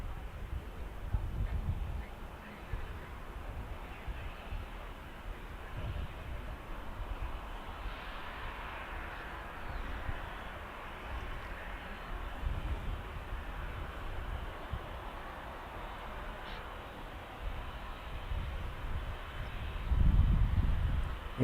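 A Lufthansa Airbus A320 taxis for departure to Munich, a steady, distant jet-engine rumble and hum that stays low and even throughout, with a slightly louder swell near the end.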